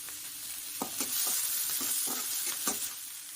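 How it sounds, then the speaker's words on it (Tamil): A large chopped onion sautés in hot oil in a pan for onion chutney, giving a steady close sizzle broken by several sharp scrape-and-stir clatters, with no talking. "ஒரு பெரிய வெங்காயம் நான் கட் பண்ணி சேர்த்துக்கிறேங்க"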